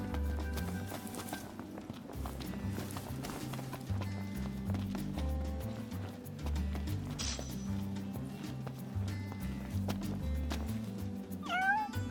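Cat meowing in Final Fantasy XV, a few short meows over a looping background music track with soft footstep-like clopping, the meows moderately clear and spaced apart.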